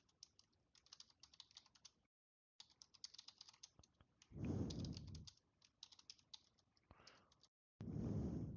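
Typing on a computer keyboard during book worldbuilding: bursts of quick, close key clicks, broken up by brief silent gaps and two stretches of speech.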